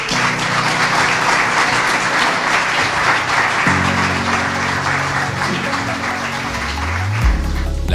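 Audience applause at a French diversity business networking event, welcoming a speaker to the stage; steady, dense clapping fills the room throughout, with a low musical tone entering partway.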